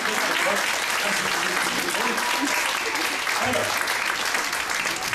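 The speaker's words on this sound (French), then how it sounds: "On peut l'applaudir très fort." At a French magic show, an audience gives loud, sustained applause, a dense wash of clapping that runs steadily and evenly from start to finish.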